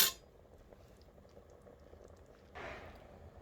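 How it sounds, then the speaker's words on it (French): Okra is dropped into a simmering sauce of Kandia soup with dried shrimp, giving a brief soft splash and then a louder burst of bubbling and sizzling over a quiet background of gentle boiling. "Voilà, je vais maintenant rajouter les gombos."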